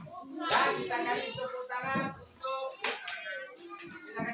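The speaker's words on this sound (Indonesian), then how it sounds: "tepuk tangan untuk yang menang" A small group, likely schoolchildren, gives uneven scattered clapping for the winner of a classroom activity, mixed with voices and chatter, moderately close.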